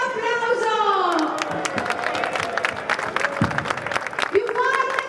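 A large outdoor rally of farmers in Rovigo breaks into applause, dense clapping with shouting and chanting voices over it, and a man calling out through a loudspeaker.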